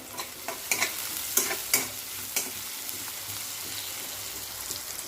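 Onion sizzles steadily in a pan for dal palak, a constant hiss broken by several clicks and scrapes of a stirring spoon, close by with no talking.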